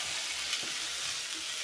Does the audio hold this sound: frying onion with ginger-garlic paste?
yes